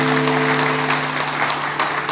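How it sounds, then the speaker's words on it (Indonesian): A church congregation claps in a dense, continuous round of applause over a low steady hum, with no voices standing out. "Puji Tuhan, kita kasih tepuk tangan dulu."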